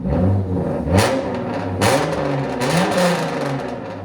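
Close, loud rev blips from a tuned Hyundai Genesis Coupe 3.8L V6 on a straight-pipe exhaust, three or four sharp throttle stabs rising and falling over a steady rumbling idle, with no voices.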